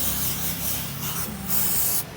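A Japanese spray cleaner is sprayed close-up into the engine bay of a Toyota Alphard 30 during an oil change. It makes a continuous, loud hiss with slight pulses over about two seconds.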